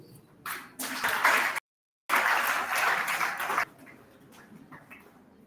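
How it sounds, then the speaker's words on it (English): Audience at a university workshop opening ceremony bursting into applause, a dense wash of clapping that breaks off abruptly, resumes just as loudly, then drops to a few scattered claps. "Another resounding round of applause for the University of Nigeria of the University of Abuja"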